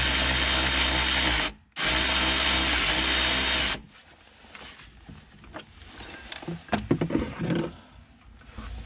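Loud whirring of a power tool on the 10 mm fastener of a BMW X5 battery hold-down bracket, two long bursts with a short gap, then quieter clicks and rustling of parts being handled.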